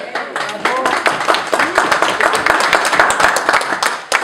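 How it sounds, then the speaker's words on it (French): Audience applause after a speech at a Montréal gallery event, many hands clapping steadily at close range, with voices murmuring underneath throughout. "J'aimerais l'applaudir."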